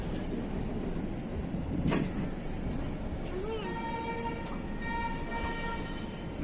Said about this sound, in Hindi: ट्रेन को एकदम स्लो लेकर के जा रहे हैं प्लेटफॉर्म पर